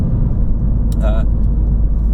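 A steady low road rumble fills the cabin of a Ford Fiesta on the move, with a brief higher sound partway through and a voice present over the drone.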